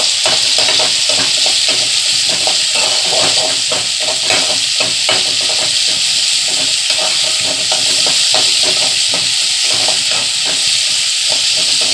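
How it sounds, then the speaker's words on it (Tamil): Tomatoes sautéing in a hot pan give a loud, continuous sizzle and steamy hiss, with constant scraping and clicking from a stirring spoon throughout, close up. "தக்காளி நல்லா வதங்குற மாதிரி வதக்கணும்"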